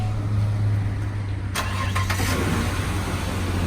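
A Ford Explorer cranks briefly and fires up with a freshly cut key, the starter whir giving way to a steady, close, rumbling idle.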